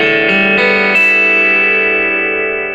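Freshly tuned electric guitar strummed through distortion and effects, a few quick chord strokes building into one loud sustained, ringing chord that slowly fades, with no talk.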